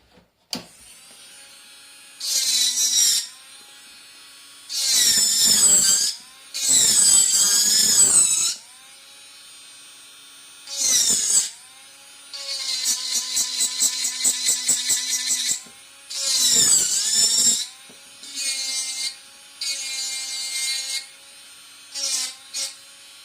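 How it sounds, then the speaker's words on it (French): A Dremel rotary tool whines in repeated bursts as it carves and sands, high buzzing spells of a few seconds each separated by short pauses, close and loud with no talking. "Et après je vais poncer avec le Dremel, je viendrai poncer ça."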